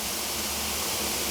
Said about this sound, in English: Hopefully you can hear that fizzing.